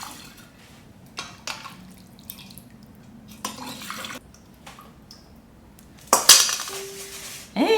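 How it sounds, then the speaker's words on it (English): Homemade bone broth poured into mason jars, with intermittent liquid splashes and glassy clinks, then a louder pour near the end, close and without talk. "I'm gonna fill up those jars now with our beautiful broth"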